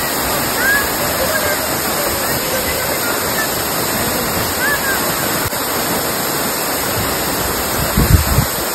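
Roaring Sahasradhara waterfall in the rain, a loud, continuous wash of rushing water close by that fills the whole clip, with brief splashes near the end.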